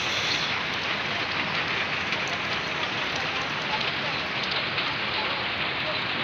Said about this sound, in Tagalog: Lalo na ngayon, ulan.